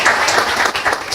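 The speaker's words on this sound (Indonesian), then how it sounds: "Berikan tepuk tangan dulu buat Tuhan Yesus." A church congregation applauding, brisk and loud crowd clapping with a slightly pulsing rhythm over a brief moment.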